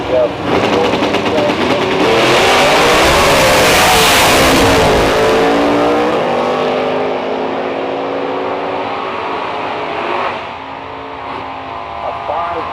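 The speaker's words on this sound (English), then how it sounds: "Manually shifted 32 Austin Bantam Roadster with a fuel-injected 352" A 1932 Austin Bantam Roadster drag racer with a fuel-injected 352 small block and manually shifted 5-speed roars loudly at a nostalgia drag strip, its engine note rising and shifting as it pulls away, with an announcer talking over it throughout.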